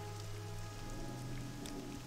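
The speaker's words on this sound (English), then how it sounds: "it's raining in the Ashlands" Rain falling on the ground in the Ashlands of the video game Morrowind, a steady soft patter with a low hum, heard alone and continuous throughout.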